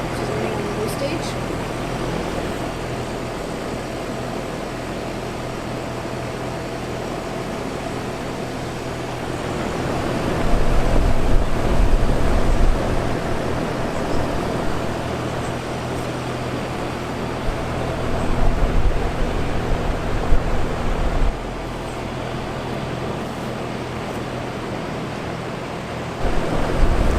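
Carrier Infinity 24ANB7 two-stage air conditioner with a Copeland scroll compressor running on low stage outdoors, a steady broadband whoosh of fan airflow with a low hum and some gusty swells.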